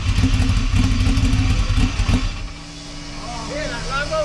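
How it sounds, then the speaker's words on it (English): A Lamborghini Murcielago engine runs loud and close with a deep, steady rumble that eases off partway through, as people talk over it. "Hear that Lambo engine?"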